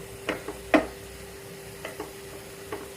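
Bitter gourd cooks in a pan with a little oil and no lid, steaming. A few sharp clinks and stirring knocks sound over a faint steady hum, with no talking.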